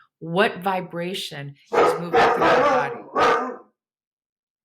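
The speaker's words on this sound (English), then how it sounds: "That's my dog." A pet dog barks in a few sharp bursts nearby at people approaching, mixed in with and partly under a man's continuous speech.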